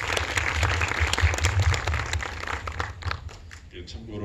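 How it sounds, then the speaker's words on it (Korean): Audience applause for an actress at a Busan International Film Festival guest visit screening, a steady crackle of clapping with a low hum underneath, thinning out toward the end. "박수 좀 쳐주시죠."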